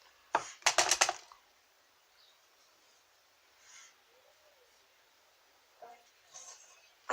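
Scissors snip through a short synthetic wig in a quick cluster of crisp cuts near the start, followed by long quiet stretches with a few faint scattered sounds.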